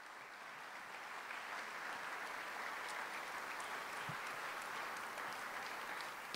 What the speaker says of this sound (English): Big round of applause for our business panel.